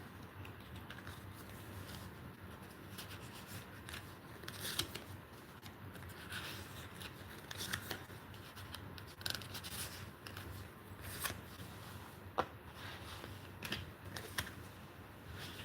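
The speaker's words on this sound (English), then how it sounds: "I'm just putting cards in the stack, see, like this" Cards for drawing messages being stacked and shuffled by hand, giving a quiet run of soft papery rustles and crisp clicks at an uneven rhythm, with no voices.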